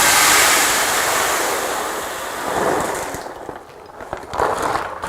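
Dry popcorn kernels poured from a container into a storage jar, a loud, continuous rushing patter that thins out into scattered rattles and clicks as the flow ends.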